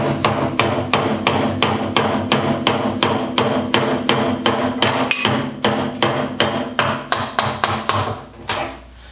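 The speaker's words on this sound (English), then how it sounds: "We'll take the copper hammer and drive the steel punch in there and drive that" A copper hammer strikes a steel punch to drive out an axle, about two dozen loud, evenly spaced metallic blows ringing close up, alone, before a brief pause and one last hit.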